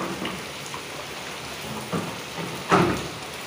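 Rain falls steadily on a house rooftop in a monsoon shower, a soft continuous patter with a few louder splashes of drops, heard alone without talk.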